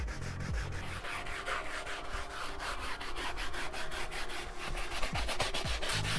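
A brush scrubs Turtle Wax cleaner foam into the seams of a car interior, a steady, close scratchy rubbing in quick repeated strokes with no talking over it.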